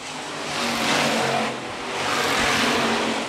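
Hobby stock race cars roar around Phillips County Raceway, engine noise swelling and fading in two broad passes as cars sweep by, loud and steady throughout.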